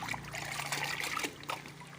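Liquid fertilizer mixture for crystal guava plants being stirred in a container, a steady wet trickling and sloshing with small splashes, close and moderately quiet, with no talk over it.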